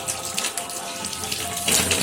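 Tap water runs steadily over salted fish being washed during preparation of Minang singgang, a steady splashing stream close by with a brief louder gush near the end and no talking.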